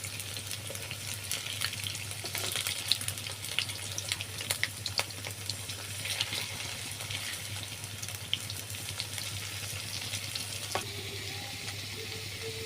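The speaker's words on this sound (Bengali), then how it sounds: "আমাদের আলু ঝুরি বল ভাজা হয়ে গিয়েছে" Potato jhuri balls fry in oil, a steady close sizzle with scattered pops and crackles running throughout, alone without talk.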